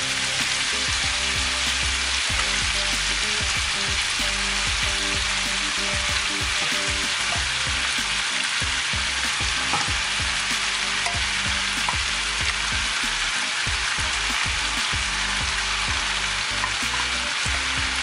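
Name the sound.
rice frying and being stirred in a pan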